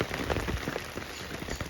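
Continuous monsoon rain pours down in a village during the rainy season, a dense, steady patter with scattered heavier drops close by, alone and without talk.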